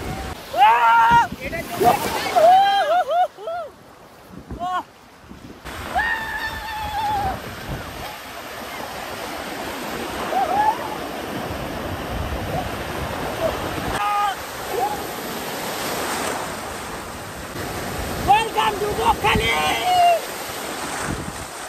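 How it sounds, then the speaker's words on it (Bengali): Wind-blown surf rushes continuously in the background while people talk and call out over it at the shore of Bakkhali beach. "আর দেখতে পাচ্ছ পিছনে কিন্তু এখন ঢেউগুলো বেশ ভালোই আসছে।"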